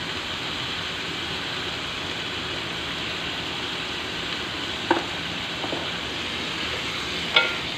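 Chicken keema with potatoes sizzling steadily in a pan, a constant close hiss of frying with a couple of brief scrapes and clinks from the stirring spoon.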